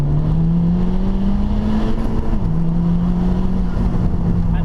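A 2016 FK2 Honda Civic Type R engine pulls hard after a downshift, a loud, close, steady drone climbing in pitch, dipping briefly at a gear change, then rising again, with no talking.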